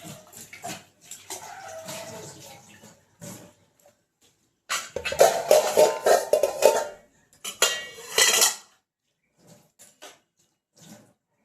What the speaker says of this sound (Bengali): এবারে কড়াটা শুধু মেজে নেবো